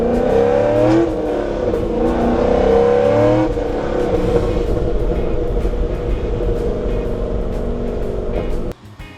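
A Chevrolet C6 Corvette V8 idles close and loud with an uneven, lumpy, choppy rhythm and a few revs early on, then cuts off abruptly near the end.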